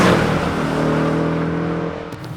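A Porsche sports car driving on an abandoned Nurburgring track, its engine a steady, loud drone that slowly fades near the end; no voices.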